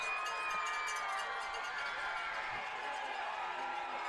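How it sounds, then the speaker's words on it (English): A rowdy crowd at a high school football game, a steady, fairly loud wash of cheering and yelling that carries on without pause, heard from a distance and blended together. "the Shady crowd gets a little rowdy"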